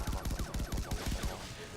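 Guns in the video game Far Cry 3 Blood Dragon fire in rapid three-round bursts, a dense run of loud, punchy shots that thins out toward the end.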